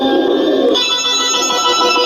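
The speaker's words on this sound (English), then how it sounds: "My home phone." A home landline telephone rings, a steady bright electronic tone filling the short moment alone at close range, with no talking over it.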